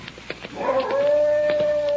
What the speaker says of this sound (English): Dog probably just can't get out because of the high fence.